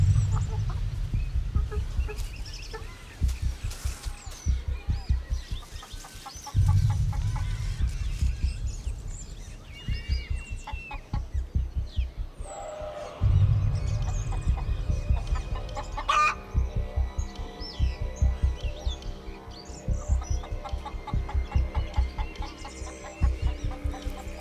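Chickens cluck busily inside a coop in daylight, rapid repeated clucks and occasional higher calls near and fairly loud, with the flock chattering continuously with no talking.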